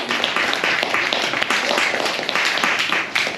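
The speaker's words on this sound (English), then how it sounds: "A little round of applause for that sweet chappy" Poetry reading audience claps for a poet, a steady patter of many hands in a small room, moderately loud and continuous with individual claps standing out, no talk over it.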